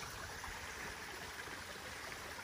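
A little creek on rural acreage flows in a continuous soft wash of water, faint and even throughout with no talk.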